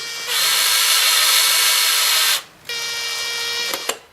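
A power drill whirs loudly as it drives a bolt through the chassis of a Kirby Heritage Turbo 84 vacuum, two sustained bursts separated by a short pause, the second ending in a brief click.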